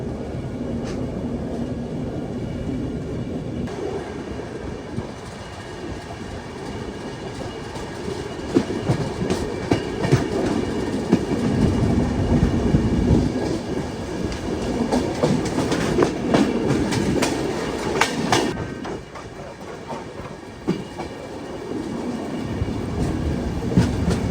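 A Duronto Express passes through Basin Bridge Junction near Chennai Central with a loud, continuous rumble and rhythmic wheel clatter on the rails, building in the middle and easing near the end, with no voices.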